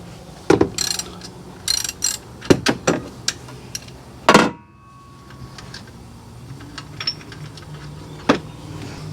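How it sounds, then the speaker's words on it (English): A 15mm wrench ratchets to loosen the tensioner pulley bolt on a Dodge Dakota or Durango with a 3.9L V6 Magnum engine, giving bursts of close metallic clicking, several quick ratchet runs and a loud scrape, then quieter clinks. "To take this pulley off, all we need to do is get that same 15mm,"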